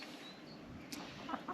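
A rooster among a backyard laying flock gives a few soft, brief clucks near the end, faint and distant over a quiet hiss.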